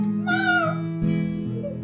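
A cat meows twice in close succession, clear and near, the first call rising and falling, the second shorter, with steady low background hum.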